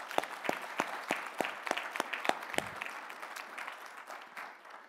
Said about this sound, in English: Let's give all of our award winners from earlier today a big round of applause.